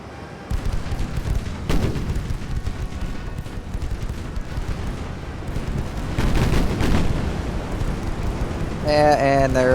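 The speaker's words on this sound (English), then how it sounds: "And there goes all of the gunfire." Naval gunfire in the Ultimate Admiral: Dreadnoughts warship game, a continuous rumbling barrage of booms with a few heavier blasts, and a voice briefly at the end.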